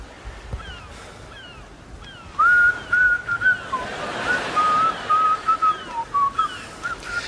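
A person whistles a wavering tune in short phrases over a soft, breezy outdoor background.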